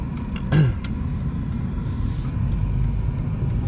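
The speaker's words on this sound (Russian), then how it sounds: "Тачку заносит постоянно." A car drives along an icy, snowy winter road in Kislovodsk, its steady rumble near and constant, with a brief rising whine early on and road noise swelling slightly toward the end.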